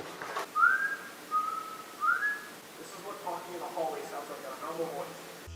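Three clear whistled notes, a rising first note followed by two shorter tones, sound faintly in a quiet bedroom, with muffled voice-like murmuring after them.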